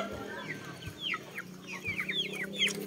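Chickens, including roosters, cluck and chirp in a busy flock at a coop, short rising calls overlapping at moderate distance, with faint rustling underneath.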